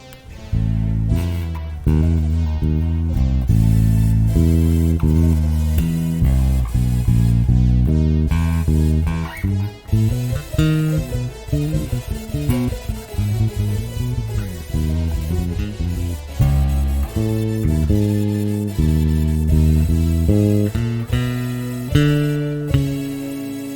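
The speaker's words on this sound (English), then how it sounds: "we can look at the melody on bass. It's actually really quite fun on bass as well." Bass guitar plays the Cave Grandpa theme melody from the NES game Rygar, a continuous run of plucked notes with a steady rhythm, heard alone at close range with no talking.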